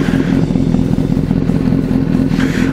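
Motorcycle fitted with a new exhaust muffler idles steadily nearby, a continuous deep bassy rumble with a slight mechanical clatter throughout, no voices.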